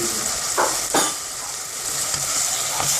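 Lamb curry with turmeric frying and being stirred in a pan, a loud close continuous sizzle with a few scraping strokes of the spoon, no voices.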